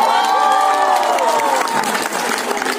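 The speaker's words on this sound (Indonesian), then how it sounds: "Tepuk tangan untuk kita semua." Audience applause and cheering swell loudly and continuously at a drum band festival final in Lhokseumawe, dense clapping mixed with crowd shouts, a voice and a tonal sound carrying over the top early on.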